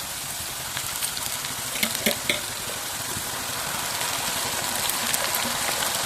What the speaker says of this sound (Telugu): ఉల్లిపాయ మసాలా ఇంకా కొంచెం మసాలా అంతా కూడా బాగా వేయించుకుందాం